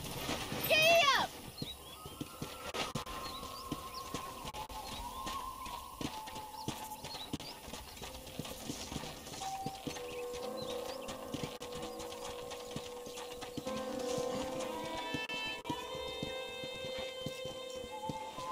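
Horse hooves clip-clop steadily at a riding pace on a ranch in the Red Dead Redemption video game, running under the whole stretch with game music and voices talking over it.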